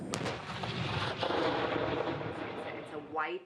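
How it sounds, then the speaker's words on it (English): Israeli airstrikes and explosions in Gaza: a dense, continuous rumble of heavy booms and sharp blasts, loud and reverberant, with a faint tonal sound rising near the end. "Israeli airstrikes, demolished buildings, a life under siege"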